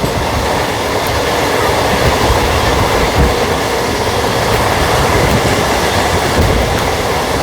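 Loud, steady rumble and clatter of trains rolling into Nagpur junction, continuous and close, with no voices over it.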